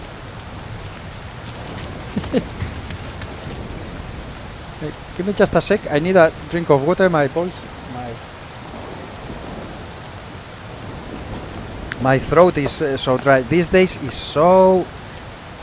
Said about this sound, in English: In London it's raining!